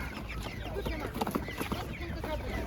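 Hens cluck and murmur at a livestock market, soft overlapping calls with farmyard background noise.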